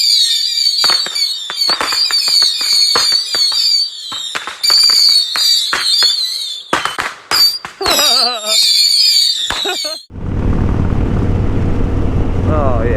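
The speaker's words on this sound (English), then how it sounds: "I love setting off fireworks" Fireworks set off at an Independence Day celebration: dense crackling bursts and whistling shrieks overlap loudly, with sharp bangs scattered through them. The display ends in a rush of noise.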